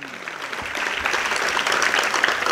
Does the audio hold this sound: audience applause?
yes